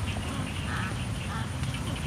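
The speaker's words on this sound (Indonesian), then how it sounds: "Ini beternak bebek Angon." Herded ducks at a duck farm quack in a dense, continuous chorus, many birds calling at once close by with a steady background hum.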